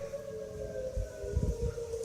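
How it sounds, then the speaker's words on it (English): EAS outdoor warning sirens sound during a severe thunderstorm warning, a steady distant wail carried on the wind with low rumbling gusts, faint and alone. "This is our EAS sirens. They sound kind of awkward."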